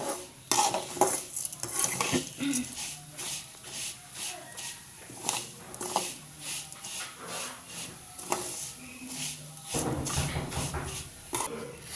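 Tea leaves are fried in a pan while a spoon stirs and scrapes them in an uneven rhythm of clinks and rasps over a soft sizzle, close by, with a brief bit of faint talk.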